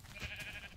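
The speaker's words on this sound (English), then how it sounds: "And there are more sheep." A sheep bleats in the video game Minecraft, one short wavering bleat heard clearly and fairly close, with no talking over it.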